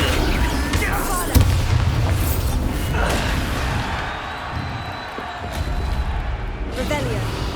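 A Confringo fire spell detonates in Hogwarts Legacy, a single booming blast near the start that rolls into a dense, noisy battle din of further impacts, with a voice speaking over the combat.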